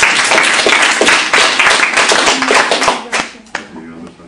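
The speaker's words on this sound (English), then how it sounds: "I think a huge round of applause to the Dragons." A studio audience bursts into loud, dense applause for the Dragons, many hands clapping close and steady before thinning out into a few scattered final claps.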